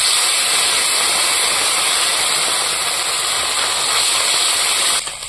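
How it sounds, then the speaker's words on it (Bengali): Small fish frying in a pan, a loud, dense, continuous sizzle and hiss that holds steady and drops off slightly at the very end. "এখন আমি এখানে এই ছোট মাছগুলো ভেজে নেব।"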